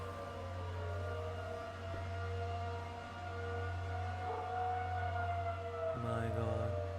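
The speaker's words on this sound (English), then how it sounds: "you're getting like a couple sirens that are rotating around, little Doppler effect action, creating different pitches and noises" Electromechanical tornado sirens wail in a long steady tone, distant and eerie, their pitch shifting as they rotate, with a second siren rising in at the end.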